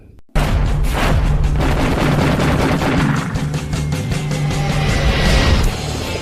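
Sustained bursts of gunfire and booms from an action-movie battle scene with the A-Team and U.S. Air Force, loud and dense throughout with rapid repeated shots and explosions and no speech.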